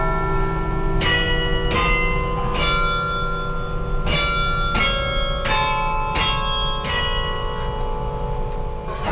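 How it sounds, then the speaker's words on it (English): Carillon bells in a university bell tower ring out the Halo video game theme, a slow melody of struck tones with long ringing decay, each note spaced about a second or two apart. "I've played the Halo theme a couple of times, and that theme song is like really iconic,"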